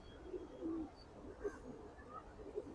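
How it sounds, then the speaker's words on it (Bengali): Homa pigeons coo softly nearby, a few faint low throaty coos spaced across a quiet moment. "এই যে কবুতরের বাচ্চা ভবিষ্যতে আমাদের বাসায় উড়বে"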